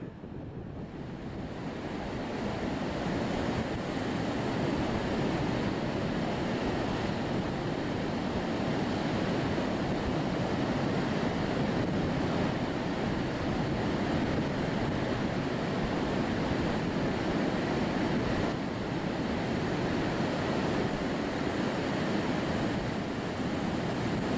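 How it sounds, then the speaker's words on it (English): Waves wash onto a beach on the Northumberland coast in a steady, loud roar of surf, heavily mixed with wind buffeting the microphone, with no voices. "final walk for a couple of miles up and down the beach. See this beautiful coastline"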